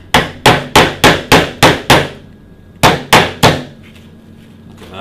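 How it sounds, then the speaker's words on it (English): A camera lens is swung like a hammer to drive a nail into wood: seven sharp, evenly spaced knocks in quick succession, a pause, then three more close, loud strikes with no talking. "If you ever want to hit a nail into a piece of wood with a lens,"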